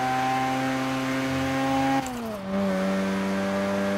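A car engine in Forza Horizon 3 holds steady at high revs, then drops in pitch as it shifts and settles at a lower whine, loud and close with no talking.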